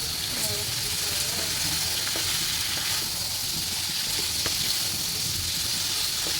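Potatoes and radish fry with prawns in a pan, giving a steady, close, even sizzle and hiss with a few soft stirring taps and no talk.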